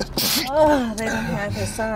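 A single sharp, breathy sneeze bursts out right at the start, close and loud, followed immediately by a person talking.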